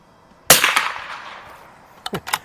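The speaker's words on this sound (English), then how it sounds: "What a sweet shooting gun this is, though." A single sharp rifle shot from bulk-pack Federal ammunition fired through an H&R M12, loud and close with a trailing decay, followed by a few quick metallic clicks and clacks.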